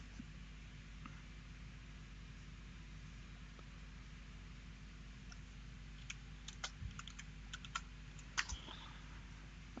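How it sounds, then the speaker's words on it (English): Quiet computer keyboard typing, sparse soft key clicks that bunch into a short burst near the end over a steady low hum, with no one speaking. "I don't know what the hell he's typing there."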